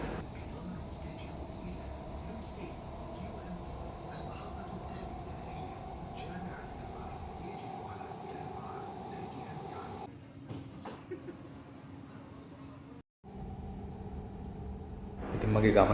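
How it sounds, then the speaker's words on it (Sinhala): A metro train ride, with a steady rumbling drone and a faint tonal whine inside the carriage; the sound thins and briefly cuts out near the end before the hum returns. "ඔය ගියත් ඉතින් මෙට්‍රෝ එකේ තමයි යන්න තියෙන්නේ ඉතින්"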